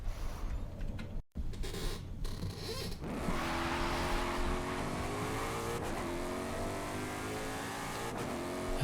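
A car drifting in the Forza Horizon 5 racing game, with a revving engine whose pitch climbs and falls steadily, mixed with tyre noise, loud and continuous after a brief dropout.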